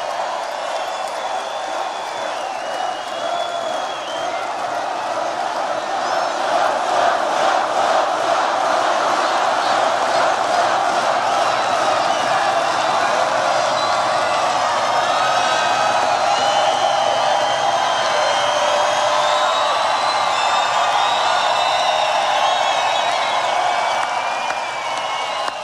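A packed political rally venue in Loveland fills with a sustained roar of crowd cheering and shouting, dense and continuous, rising slightly partway through and holding loud to the end.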